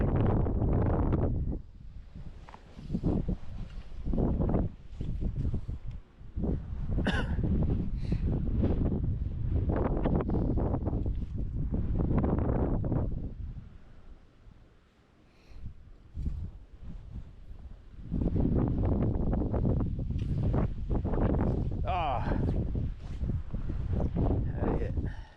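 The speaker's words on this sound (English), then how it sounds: "Man, that wind even pushes the indicator pretty fast." Gusty wind buffets the microphone beside a river during fly fishing, rumbling and rustling in long, uneven surges with brief lulls.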